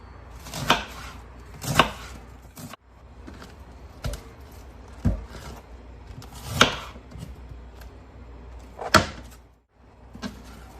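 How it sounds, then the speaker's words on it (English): A knife finely chops cabbage on a board, giving a series of sharp, close thuds at irregular intervals with quiet pauses between them and no speech. "we're going to finely chop the cabbage"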